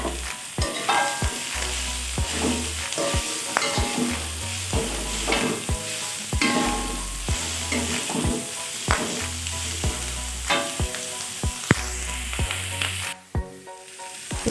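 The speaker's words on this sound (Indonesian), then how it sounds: "Kita tumis sampai harum. Selanjutnya kita masukkan babat." Tripe stir-fries in a hot pan with green chili, giving a loud, continuous sizzle broken by repeated scraping and clanking strokes of a spatula, until the sizzling drops off sharply near the end.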